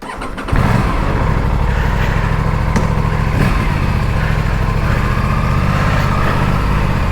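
A new motorcycle's warmed-up engine kicks in after a brief moment and then runs loud and close at a steady idle, its rapid even thrumming pulse continuing without pause and with no talk.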